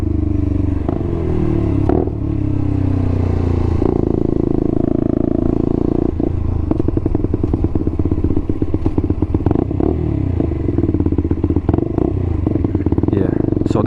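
Motorbike on the move during a trip, a steady engine drone with clattering, thumps and crackly rattles through the middle, loud and close throughout with no voices.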